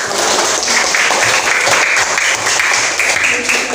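A sixth-grade mathematics class applauding together, steady clapping from many hands filling the room for nearly four seconds with no pauses.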